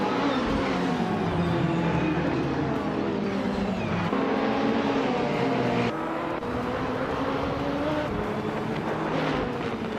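A steady roar of race car engines at Aintree Vintage in a racing video game, a classic 1985 Lancia LC2 among them, pitch rising and falling as the cars shift gears, loud and continuous with no voices.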